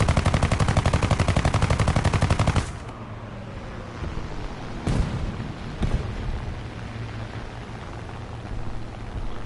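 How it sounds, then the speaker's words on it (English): Rapid machine-gun fire from aircraft guns in War Thunder, a low-tier English plane, rattles loudly in a fast steady burst for about three seconds, then cuts off, leaving engine drone with a couple of sharp distant impacts. "I basically ran my guns out of ammo with that one"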